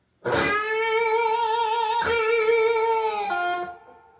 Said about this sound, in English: 8B, bend, vibrato, hold it, pick vibrato, release, pull off to 6.